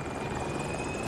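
Helicopter in Battlefield 2042 hovering close overhead during a firefight, its steady rotor thrum and engine whine loud and continuous for the whole moment with no talk.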